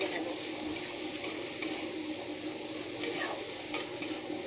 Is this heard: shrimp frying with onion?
yes